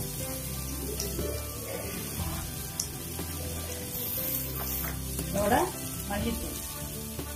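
Chili and coriander powder sautéing in a pan for a spicy ridge gourd curry, giving a soft, low sizzle with occasional stirring scrapes while a person talks over it.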